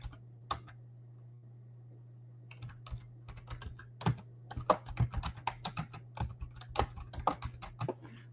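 Typing on a computer keyboard, a landscaping company's name entered into a search: a quick, irregular run of close key clicks that starts sparse and then speeds into steady bursts over a low constant hum.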